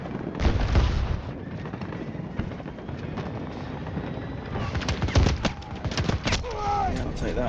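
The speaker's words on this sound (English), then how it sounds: "It's a mini grenade." A mini grenade explodes in Battlefield 2042 amid a dense din of game combat, with gunfire, rumbling and clattering layered throughout and a sharper burst near the end.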